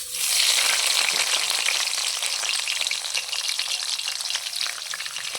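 Two large chopped onions frying in hot oil with cloves and cinnamon, a steady close sizzling hiss that runs throughout with faint crackles and no talk.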